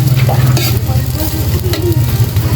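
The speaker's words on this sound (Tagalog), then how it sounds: "So, igigisa ko lang naman siya." A marinated chicken dish being sautéed in a pan, with steady close sizzling and stirring scrapes over a low rumbling hum, brief voices faintly in the background.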